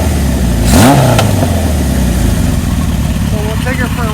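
A 1978 Kawasaki KZ1000 LTD motorcycle engine runs with a steady low rumble, briefly blipping higher early on while a voice talks over it.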